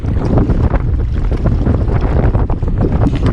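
Wind buffets and roars steadily over a women's coxed four rowing boat racing into a headwind and crosswind, a loud, continuous rush with gusty surges and no voices.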